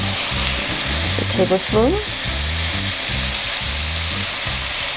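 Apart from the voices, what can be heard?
soy sauce added to sizzling Kung Pao prawns in pan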